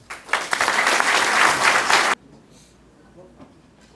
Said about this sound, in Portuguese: Vamos aplaudir mais uma vez nossos agraciados.